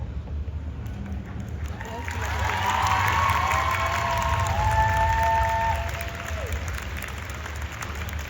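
Audience applause at a cosplay contest at an anime convention, building from a quieter start into fuller clapping mid-clip, mixed with crowd noise and some voices, then tapering slightly toward the end.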